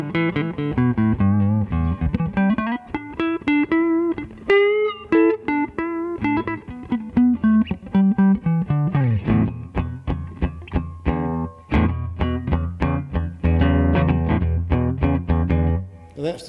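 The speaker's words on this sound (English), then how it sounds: "So this is with the Stratocaster sound." Electric guitar on its front Stratocaster-style pickup through a valve amp, played clean with a bright, bell-like tone: a flowing melodic run of single notes that gives way to rhythmic strummed chords, steady and fairly loud.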